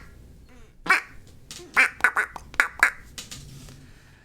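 Several loud duck quack sound effects go off one after another, a single quack followed by a quick cluster of four or five, close and punchy over low background noise.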